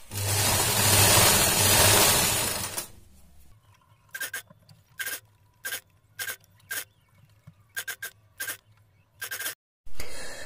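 Domestic sewing machine stitching a newborn baby cap: a loud continuous run of stitching first, then a series of short bursts of stitching separated by pauses, close and clear.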